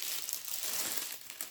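Plastic film pulled off the glued surface of a diamond painting canvas, a close, continuous crinkling and sticky crackle lasting a moment, with no talking.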